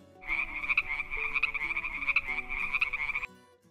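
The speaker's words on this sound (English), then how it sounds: "Frog." A frog croaks in a rapid, rattling series of calls for about three seconds, loud and close, with no other sounds around it, set among a children's lineup of animal noises.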